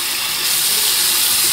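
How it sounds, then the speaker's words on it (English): Tap water runs steadily and generously over an Elevation Training Mask 2.0 during cleaning, a continuous close splashing rush with no pauses and no voices. "just run it generously under the tap"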